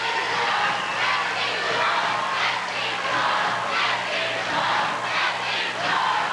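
Basketball game crowd in a gym cheering and chanting, a loud continuous roar with rhythmic rising surges of voices throughout.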